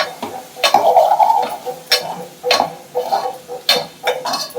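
Goat blood fry being stirred in a pan, a spoon scraping in several distinct strokes spaced roughly a second apart over a soft sizzle, close and fairly loud with no talk.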